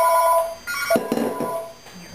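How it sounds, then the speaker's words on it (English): A fax machine's phone line rings in a home kitchen, a brief loud electronic tone that cuts off and gives way to clattering noises. "Sorry, my phone is ringing. It's my fax machine."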